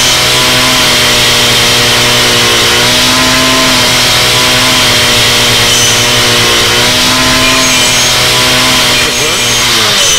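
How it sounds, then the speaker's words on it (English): A chainsaw cuts wood in the video game Starforge, giving a loud, steady, buzzing engine drone that holds an even pitch throughout with no talking. "Why don't you cut out the wood with your chainsaw?"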